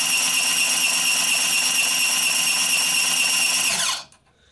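An electric motor turns a wheel through a 3D-printed belt and pulley drive under high belt tension, giving a loud, steady, high whine close by that winds down and stops near the end.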